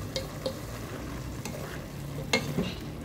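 Broccoli sautés in a pan with a steady, gentle sizzle under a few sharp clinks and scrapes of a utensil stirring, close up, without any talk.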